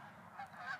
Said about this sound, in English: See fucking geese over here.